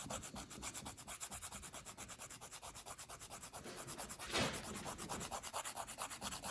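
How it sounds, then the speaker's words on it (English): Sandpaper rubs back and forth in a quick steady rhythm on a guitar fingerpick, a faint close scratching with one brief harder stroke. "I'm definitely going to be sanding the tip of that again"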